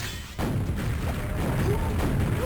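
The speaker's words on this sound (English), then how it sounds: "He's very aware of when he has to be cheeky with the rocket launcher." Rocket launcher explosions during a Quake match at a LAN tournament: a dense, continuous low rumble of blasts and booms starting abruptly, loud and sustained with no clear gaps.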